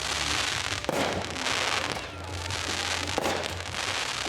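A 9-shot Great Expectation firework cake, a small triangle-shaped cake, fires loud crackling bursts through a steady outdoor rumble, with sharp reports at about one and three seconds and no talk.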